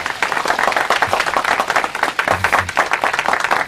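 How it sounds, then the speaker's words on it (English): Loud, close crowd applause at a winners' announcement event, a dense rapid patter of many hands clapping steadily throughout with a slight pulsing rhythm. "When I call his name, they all clap. Clap for him."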